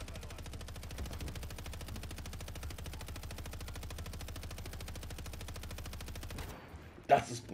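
Rapid sustained automatic gunfire from a Kastov LSW light machine gun in Modern Warfare 3 rattles continuously for several seconds, then stops, followed by a single sharp burst near the end.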